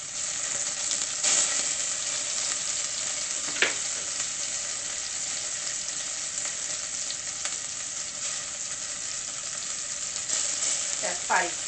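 Food frying in hot olive oil gives a steady, close sizzle throughout, with a few brief clinks and stirring sounds rising above the hiss.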